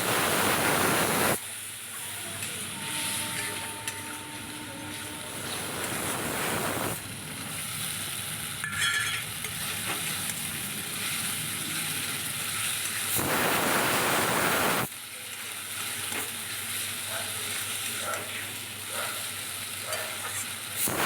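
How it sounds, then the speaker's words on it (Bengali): Spice paste sizzling in hot oil with a splash of water, cooked for a dish of potatoes and pointed gourd; a steady broad frying hiss runs throughout, swelling louder at two points when the paste is stirred and moved around the pan. "মশলাটাকে তেলের ওপরে দিয়ে দিলাম সামান্য জল দিয়ে এবার কষিয়ে নেব"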